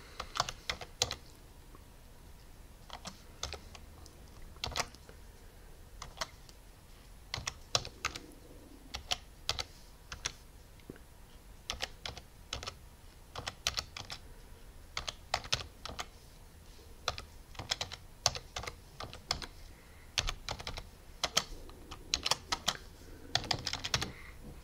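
A command being typed into a terminal on a computer keyboard, with steady, rapid key clicks and occasional heavier keystrokes continuing close up for the whole stretch, with no voices.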